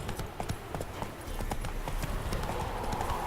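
The horse Roach gallops in a video game, with a quick, steady run of hoofbeat clip-clops that stays close and even throughout.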